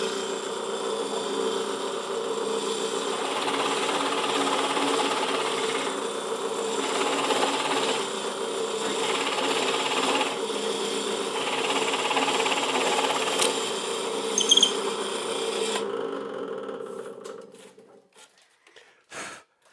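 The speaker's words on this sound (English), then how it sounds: "We'll drill the first hole." A drill boring a hole in wood runs steadily at high speed for about sixteen seconds, then cuts off and winds down, followed by a couple of faint knocks.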